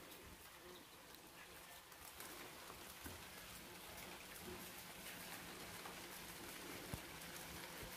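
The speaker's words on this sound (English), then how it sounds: "It's raining again." Steady rain patters softly in the background, with an occasional bird coo and no talking.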